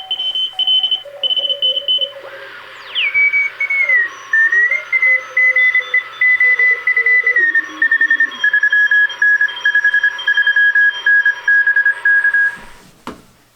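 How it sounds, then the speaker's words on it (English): A steady tone keyed on and off in rapid dots and dashes, a Morse code CW signal pulsing continuously over faint radio hiss, received on a National HRO shortwave receiver. "we can hear that this radio does resolve CW really well"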